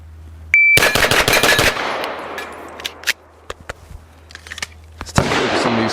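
Glock pistol fitted with a Timney Alpha trigger fired in a fast string of sharp, loud shots at an outdoor range, a tight rapid burst followed by scattered clicks and a short later noise.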